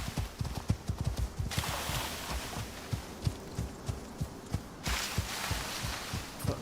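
Horse hooves clip-clopping steadily in the Icarus video game, an even repeating trot of close, muffled thuds over a background hiss of wind, with no voices.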